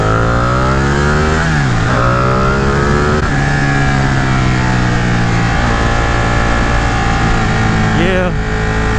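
A 2018 Ducati Panigale 959 engine drones loud and continuous while riding, its pitch sliding up and down through gear changes under steady wind rush.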